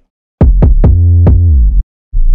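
An 808 bass in the trap beat of a track: several punchy booming hits, then one long sustained note that glides downward in pitch before cutting off, with a short fresh 808 hit right at the end.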